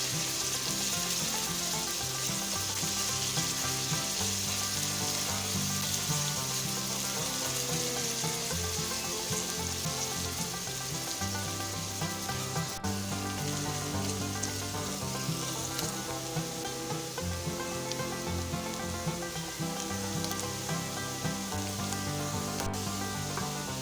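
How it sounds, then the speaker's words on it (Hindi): Chopped onions fry in oil in a pan while dal makhani is being cooked, giving a steady, dense sizzle that runs unbroken and fairly loud throughout, with no speech. "प्याज को हम फ्राई कर रहे हैं।"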